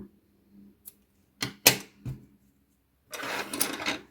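Yarn snipped with scissors while crocheting a rabbit-ear scrunchie: a few sharp, separate clicks and snips close by in a quiet room, with a brief rustle of handling at the end.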